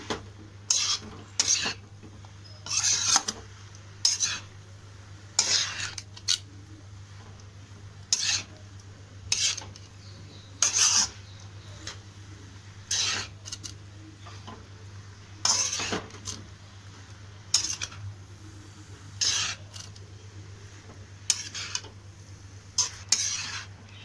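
Cabbage and vegetables stir-fried in a pan for restaurant-style chicken fried rice: a spatula scrapes and clinks against the pan in repeated bursts every second or two over a faint sizzle, close and alone.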